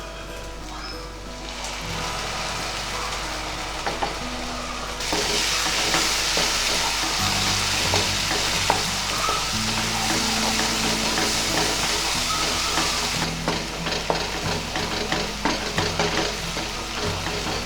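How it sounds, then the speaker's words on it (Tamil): Tomato paste sautéing in a pan for a paneer gravy masala gives off a steady, dense sizzle with stirring scrapes throughout, growing fuller and louder after the first few seconds. "நம்ம தக்காளி சேர்த்து தக்காளியும் நல்லா வதக்கணும்"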